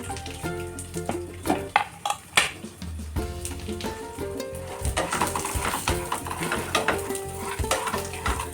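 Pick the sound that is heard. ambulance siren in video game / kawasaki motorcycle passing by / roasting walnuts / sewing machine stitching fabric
roasting walnuts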